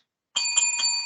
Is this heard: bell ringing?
yes